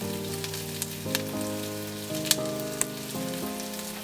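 Curry leaves sizzling in a pan of sautéed onions and turmeric for a Ceylon cinnamon chicken curry, a steady soft frying hiss with a few small pops, under faint background music.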